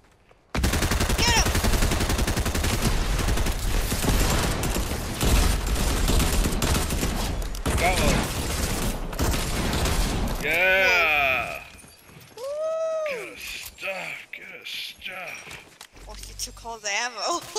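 Video game gunfire breaks out in dense, rapid bursts that fill the first ten seconds, then thins to scattered shots with whooshing and ringing game effects.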